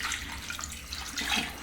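Two glasses of water are poured into a pot of chicken seasoned with salt, pepper powder and turmeric, a brief close splashing pour with no voices over it.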